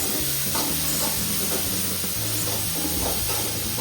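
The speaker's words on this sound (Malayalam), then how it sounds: "സവാള കുറച്ച് വതകണം ഗൈസ്" Onions sautéing in a pan for a home-cooked after-school snack give off a steady, close sizzle with occasional stirring scrapes, continuous throughout with no talking.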